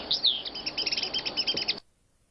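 Starlings chirp and whistle in a dense run of bright calls, fairly close, that stops abruptly and leaves silence.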